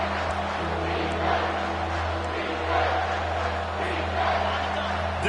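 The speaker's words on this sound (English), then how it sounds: "Decibels rising as the crowd gets behind this defense on 3rd down." Stadium crowd roaring at a Missouri versus Alabama college football game on third down, a dense, sustained wash of noise swelling in waves, with an announcer talking over it.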